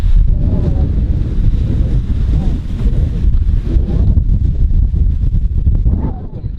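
Strong coastal wind buffets the microphone on a Cretan beach, a continuous loud rumbling gust with waves faintly beneath it.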